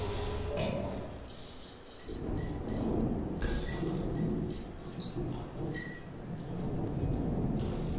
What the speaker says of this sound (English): The thunder be going crazy